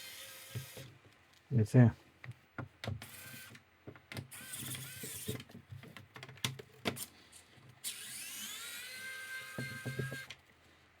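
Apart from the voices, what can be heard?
Xiaomi electric precision screwdriver driving screws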